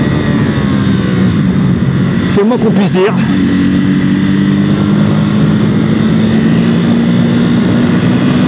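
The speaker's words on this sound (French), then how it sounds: "nous voilà en piste avec la Supersport 950 sur le tracé assez technique de Vallelunga en Italie" Ducati SuperSport 950 S on the Vallelunga circuit in Italy: loud, near engine drone with a rising pitch under a gearshift burst, while someone speaks French over it.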